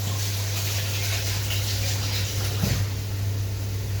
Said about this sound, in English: I'll just wash my hands.